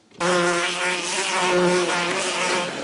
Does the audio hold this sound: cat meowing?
no